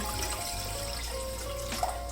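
A glass of water is poured into a pot to start jaggery syrup for sweet rice, a brief soft trickle and splash close up in a quiet kitchen.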